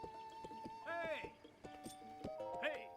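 Horse in the Breath of the Wild video game: neighing whinnies with rising, wavering tones around the middle and again near the end, over steady clip-clopping hooves, with game music and a voice talking throughout.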